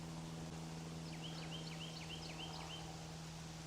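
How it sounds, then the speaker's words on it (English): Faint, repeated chirping bird calls sound outdoors among cottonwood trees on a mild autumn day, a short run of evenly spaced notes over a steady low drone of distant highway traffic. "Birds singing."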